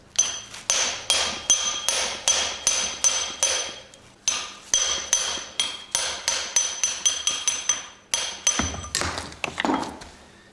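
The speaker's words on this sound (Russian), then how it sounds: "Сейчас выбиваю этот подшипник и попробуем сюда сделать выход." Sharp metal hammer blows ring out in quick, steady bursts as a bearing is knocked out of a ZIL truck crane, close and loud, with short pauses between series of strikes.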